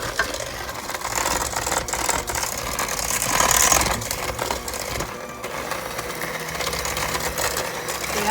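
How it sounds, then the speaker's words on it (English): An electric mixer whirs continuously at high speed through brownie batter of sugar, eggs and vanilla, a steady, loud, close mechanical buzz with slight changes in pitch as the beaters move through the bowl. "I'm going to mix this up right fast."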